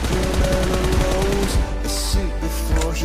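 Automatic gunfire in spray mode from PUBG Mobile, a fast run of shots with music or game sound underneath across the whole stretch.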